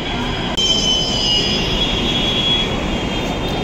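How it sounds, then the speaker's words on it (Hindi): Loud Delhi Metro train rolling into a station, with a steady rumble and a high, sustained wheel squeal on the rails. "और ये आ गई हमारी मेट्रो"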